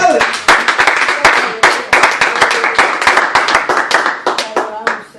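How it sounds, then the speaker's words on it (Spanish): A church congregation claps for the Father in a close, loud burst of sharp, uneven hand claps. The clapping is quick and rhythmic and runs without a break, with a voice briefly heard among the claps. "Un aplauso al Padre."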